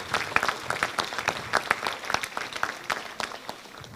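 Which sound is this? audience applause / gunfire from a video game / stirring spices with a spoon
audience applause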